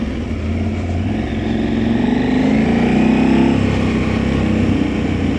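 A KTM motorcycle riding on the road, its engine droning close and loud with wind rush, pitch gently rising as it accelerates and then settling at a steady cruise.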